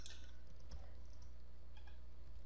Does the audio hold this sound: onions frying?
no